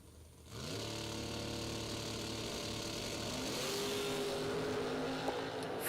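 Drag racing cars launch down the strip, one lifting into a wheelie, with a loud engine roar that kicks in abruptly and holds a steady, high-revving drone at a distance.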